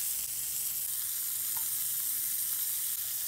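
A ribeye steak sizzles with butter in a hot cast iron pan, a steady, close, even frying hiss that holds without pause, no talking.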